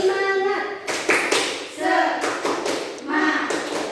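Primary-school pupils in a classroom clap out the 'tepuk semangat' chant, sharp rhythmic bursts of hand claps alternating with children chanting along, loud and close.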